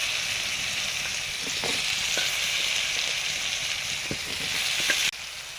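Diced brinjal frying in oil with panch phoron and turmeric, a steady close sizzle running throughout with a few soft stirring knocks and no talking.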